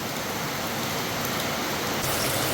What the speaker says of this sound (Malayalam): നല്ല മഴയാ പുറത്ത്.